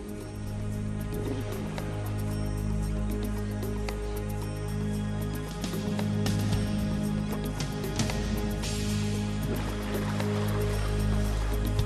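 River water flows and splashes continuously as a lioness swims across, a steady rushing wash with a low drone underneath and no talking.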